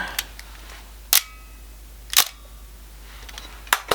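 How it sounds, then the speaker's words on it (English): Sharp mechanical clicks of a metal vertical-travel focal-plane shutter on a vintage 35mm Praktica SLR fire about four times at irregular intervals, each a crisp metallic snap in an otherwise quiet room. "The Praktica here has a metal vertical travelling shutter."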